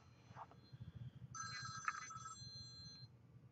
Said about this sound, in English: Just a phone call from Australia.